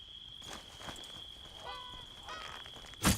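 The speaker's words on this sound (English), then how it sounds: "is that honking noise the monkey? No, I think it's that big bird up there" A large bird honks in the Morrowind video game, a few short nasal calls heard at a distance over a steady high ambient tone, followed by a louder thump at the end.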